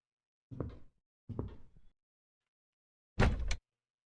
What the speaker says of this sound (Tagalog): Drawer is locked.